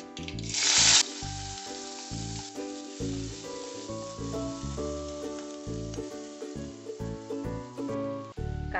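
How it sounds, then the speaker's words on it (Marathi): Chopped onion added to hot oil already crackling with mustard seeds and cumin, giving a loud initial sizzle that settles into steady frying with stirring clatter over background music. "आता यामध्ये आपण कांदा घालून घेऊ."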